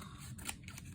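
Scissors trimming a sheet of purple card for a handmade Valentine card: a couple of close, crisp snipping cuts over about a second, quiet and without talk.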